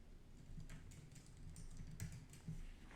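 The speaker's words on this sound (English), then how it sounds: "Type some R code in" Soft, close keystrokes on a computer keyboard as R code is typed, an irregular patter of quiet clicks with a slightly louder tap at the end, no voices.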